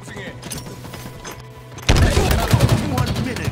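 Gunfire bursts out in a Halo Infinite multiplayer match, a sudden loud fusillade of rapid shots and booms following quieter game ambience.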